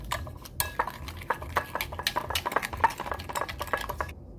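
A spoon clinks and scrapes against a pot while sugar is stirred for a breakfast dish, a busy run of quick metallic taps and scraping strokes heard up close with no talking.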